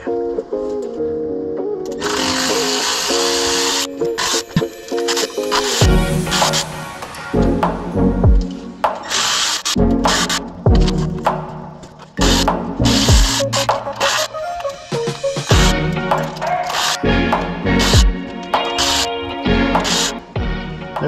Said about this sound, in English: start cracking these bottom bolts off